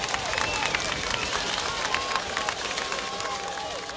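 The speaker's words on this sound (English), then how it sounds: "listen to the crowd rock for that defense" A crowd roaring and cheering in the stands at a 1994 high school state championship football game, a continuous broad wash of noise with whistles and shouts rising out of it, loud and steady throughout.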